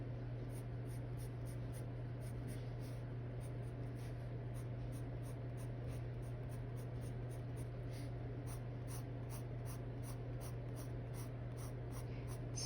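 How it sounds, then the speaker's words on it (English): A colored pencil scratches on paper in quick, even strokes that run steadily for the whole stretch. It is very quiet and close, over a low constant hum, with no talking. "It's a comfortable pencil."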